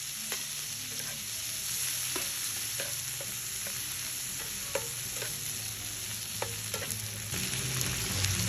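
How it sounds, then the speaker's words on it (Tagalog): Garlic and tomato sautéing in a pan, a continuous close sizzle with repeated clicks and scrapes of a stirring spoon throughout. "Lagyan ng bawang at kamatis"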